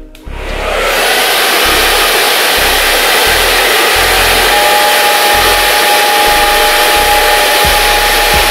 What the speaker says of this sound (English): I want you to blow dry it with cold air before you tie it down.